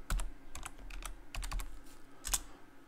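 Someone types a password on a computer keyboard, giving quick, quiet clusters of key clicks up close with short pauses between bursts.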